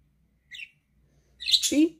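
A pet parakeet gives a short chirp, then a louder scratchy squawk-like call a moment later, close up in a quiet room.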